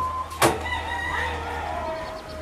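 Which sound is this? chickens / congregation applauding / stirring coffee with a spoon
chickens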